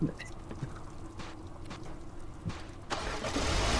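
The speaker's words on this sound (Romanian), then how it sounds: "Închide motorul" A car engine being started and left running on a road trip, with intermittent clunks and bursts before it settles into a louder steady hum, and a few background voices.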